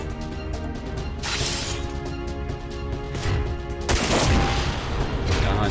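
Loud, dense bursts of rapid gunfire in the video game Front Mission 4 crackle and boom almost continuously, swelling in intensity toward the end.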